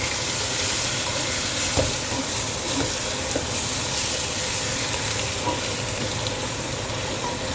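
Chicken wings for curry sizzle and fry steadily in a pan, with a dense, even crackle and a few faint stirring clicks throughout.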